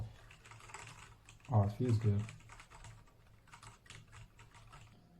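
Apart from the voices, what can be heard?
typing on Redragon K673 PRO mechanical keyboard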